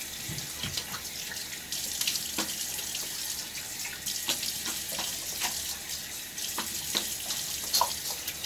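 Water splashes at a bathroom sink during a wet shave with hard, cold water, with a run of quick wet slaps and trickles against the basin under a steady running-tap hiss.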